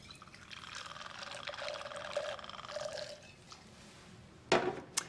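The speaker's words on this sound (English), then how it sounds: "In the mixing glass, we're going to start with a large measure of Bombay Sapphire." Bombay Sapphire gin pours from a bottle into a mixing glass with a steady, soft trickle, ending in a few sharp clinks near the end.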